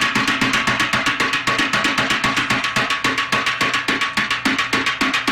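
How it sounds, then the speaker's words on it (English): Fast, regular slaps of a duck's feet on a snare drum repeat in an even stream, crisp and close, with no talking. "He's slapping against something. Well, a snare drum."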